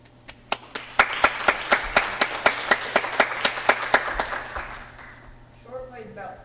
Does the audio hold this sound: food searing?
no